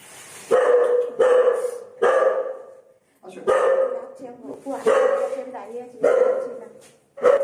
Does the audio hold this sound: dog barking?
yes